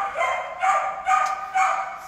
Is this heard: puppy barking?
yes